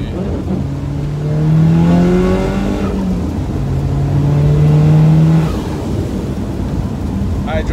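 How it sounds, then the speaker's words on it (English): A turbocharged car pulling hard under acceleration, engine note rising in two long sweeps with a whooshing turbo layer on top, loud and close as if from inside the cabin, then easing off toward the end. "Something real. Turbo noise. Hopefully you guys can hear it."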